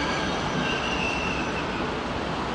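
Older double-deck train with a locomotive leaving Frankfurt Hauptbahnhof, a steady loud rolling rumble of wheels on rails with faint squealing, close and continuous, no talking.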